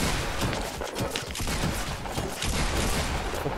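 Rapid gunfire bursts in Fortnite crack continuously and loudly, dense overlapping shots filling the whole stretch with barely a pause.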